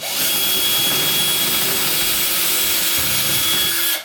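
Power drill boring holes into a wall while mounting an IKEA Varde shelf, a steady loud whirring grind running continuously close by with a slight change in pitch partway through.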